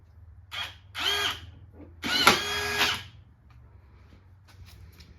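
A power drill with a drywall countersink bit drives a screw in close, with three whirring bursts that grow longer, the last ending in a sharp catch as the screw seats, followed by quiet handling.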